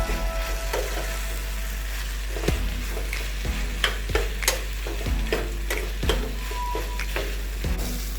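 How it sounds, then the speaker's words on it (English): Crumbled potatoes stirred into Kumbakonam kadappa as it cooks, giving a soft, steady bubbling simmer with scattered sharp spoon scrapes and taps against the pot, close and fairly quiet, with no talking. "I'm adding the potatoes to this."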